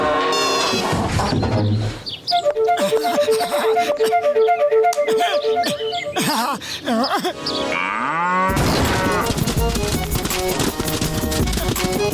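A cartoon buffalo gives long, wavering moos with musical stings and comic sound effects around them, the calls loud and up front in an animated children's scene.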